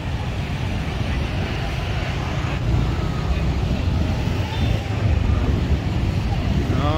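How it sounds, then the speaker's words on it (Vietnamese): Outdoor scene by the Perfume River in Hue during a boat race, with a constant roar of wind and engine-like rumble, distant and steady, while people talk. "Đó, đang chạy đua ghe đó."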